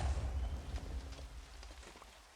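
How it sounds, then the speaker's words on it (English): Steady rain falls in a Minecraft world running the ATM10 modpack, a dense, even hiss of drops with soft low rumble, fading slightly over a couple of seconds, no voices. "Alright, so it's raining."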